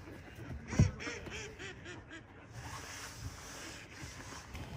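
Several ducks quack in a quick, chattering series close by at Carrie Blake Park, one loud honk standing out, then softer scattered calls against outdoor background noise.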